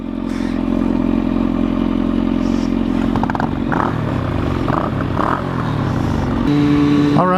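Motorcycles, including a Suzuki cruiser, riding along a road, with a steady loud engine drone and wind rush throughout, brief clattering and scraping, and a rising rev near the end.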